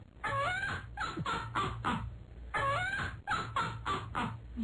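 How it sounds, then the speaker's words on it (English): A mynah bird laughing sound effect played on radio: repeated cackling, chattering bird calls in two rhythmic bursts of four or five notes each, loud and close, with a steady background hum. "How about a minor bird laughing?"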